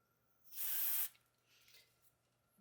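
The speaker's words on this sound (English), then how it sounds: "all I'm going to do is just spray a little contact cleaner on here." A short, close hiss of aerosol contact cleaner lasts about half a second, followed by a fainter trailing hiss in a quiet room.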